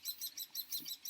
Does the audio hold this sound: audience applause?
no